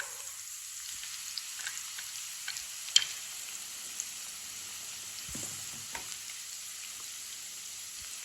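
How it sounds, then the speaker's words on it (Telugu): Onions frying lightly in a pan with turmeric and salt added, a steady soft sizzle running throughout with occasional small clicks and a brief stir or scrape near the end. "నేను ఆనియన్స్ అయితే యాడ్ చేసేస్తున్నాను ఇవి కొంచెం లైట్గా వేగాలి కదా"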